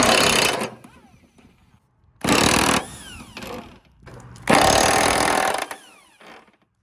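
An impact wrench with a 24mm impact-rated socket loosens the bolts on a lawn mower blade, firing three loud, close bursts of rattling hammering separated by short pauses.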